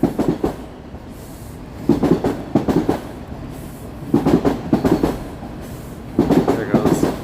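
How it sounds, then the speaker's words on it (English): A northbound train rolls past on a downtown Toronto line, its wheels clattering in rhythmic bursts of clickety-clack that rise and fall steadily, loud and fairly close, with no talking. "There goes a northbound train."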